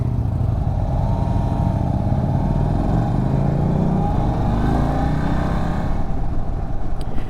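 An all-new Indian Sport Chief RT motorcycle, an American touring bike, is ridden on the road, its engine droning steadily and loud throughout with wind noise and a slight shift in pitch partway through.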